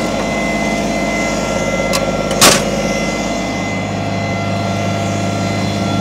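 A 2010 Kubota BX25D sub-compact tractor loader backhoe engine runs steadily nearby, a loud even drone with one short sharp clank partway through and a second fainter tick just before it.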